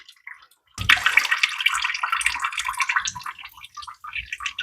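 Water poured from a can onto potted tomato and pepper seedlings, a steady close splashing and trickling that starts abruptly and runs on through the soil, with no talking.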